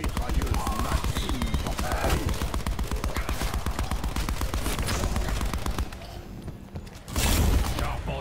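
A machine gun in Call of Duty Black Ops 4, on the Nuit Des Morts zombies map, fires a loud rapid stream of rounds for several seconds, then pauses and resumes with a heavier burst, with game noise and a voice speaking underneath.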